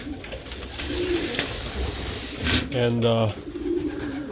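Pigeons coo inside a loft, a few soft rolling calls rising above steady room noise while someone speaks nearby.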